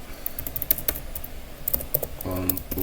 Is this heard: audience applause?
no